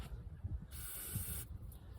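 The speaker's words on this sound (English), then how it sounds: "I'm gonna spray the Q-tip just to get it wet" One short burst of aerosol spray onto a cotton swab hisses for under a second, close and bright, between quiet background sounds.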